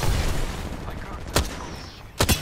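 Gunfire in the Apex Legends video game: two sharp, loud bursts of shots crack near the middle and end over a rumbling battle backdrop.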